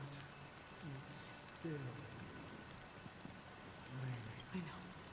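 Rain falls in a Honkai Star Rail video game cutscene, a soft, steady patter running throughout while characters talk over it.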